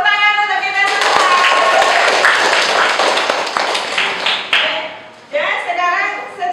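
Elementary school children applaud together in a classroom, a dense burst of clapping mixed with voices that tapers off as a teacher begins speaking.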